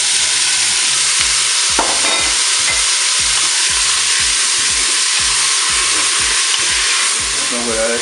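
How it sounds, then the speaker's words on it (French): Onions and leeks frying in hot oil, a steady loud broadband sizzle across the whole stretch, with a few brief stirring scrapes and clinks near the pan and no talk. "l'huile est chaude, je vais pouvoir mettre donc les oignons. Et puis je vais tout de suite ajouter les poireaux"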